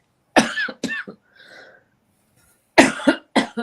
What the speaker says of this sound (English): I don't know where that cough is coming from